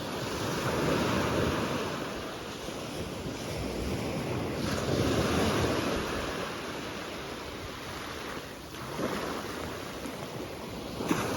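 Steady wash of waves and surf under light drizzle, with wind buffeting the microphone, a continuous outdoor roar with no voices.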